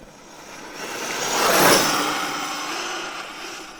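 A brushless Losi 5T RC car on 8S Castle power with paddle tires makes a flyby across sand, its high whine swelling as it approaches, peaking close, then fading away.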